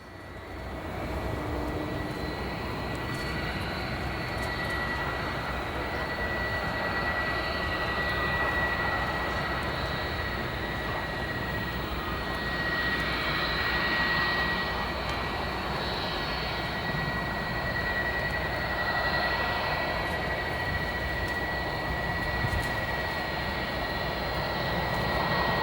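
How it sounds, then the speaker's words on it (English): A Boeing 787 jet departs O'Hare airport, its broad engine roar holding steady and loud for the whole stretch, a continuous rushing drone with a faint whine riding above it and no voices. "Here, a 787 departing."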